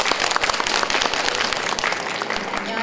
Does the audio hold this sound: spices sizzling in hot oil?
no